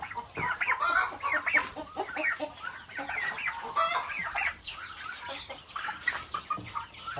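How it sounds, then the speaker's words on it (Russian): Chickens and turkeys on a farm cluck and call in a busy, overlapping stream of close bird voices, with short squawks throughout and no talk. "Индюки."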